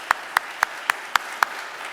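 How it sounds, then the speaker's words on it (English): A single person claps slowly and steadily at a town hall meeting in a church, six sharp, evenly spaced claps close by with a quiet room behind them. "So let's give Bill a round of applause."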